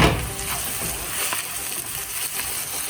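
Onions cooking in a covered pan for a vegetable pie, a steady close sizzle and hiss of frying with faint crackles throughout, no voices.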